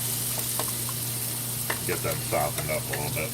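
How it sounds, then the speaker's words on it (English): Carrots fry in a little olive oil in a frying pan, giving a steady close sizzle with occasional stirring scrapes while a person talks over it. "I got my frying pan here with just a little bit of olive oil in there. And I'm going to add my carrots."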